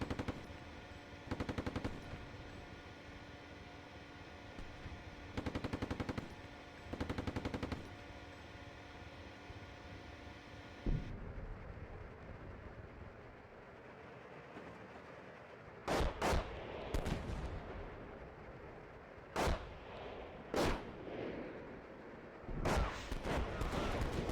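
Tank gunfire in the winter-setting video game Steel Beasts Pro PE: short bursts of machine-gun fire early on, then several sharp, isolated heavy cannon shots with quiet gaps between them.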